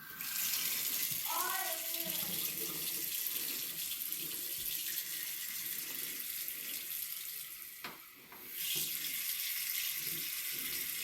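Water runs steadily from a household tap for several seconds as a continuous hiss, with a brief dip near the end and faint background voices.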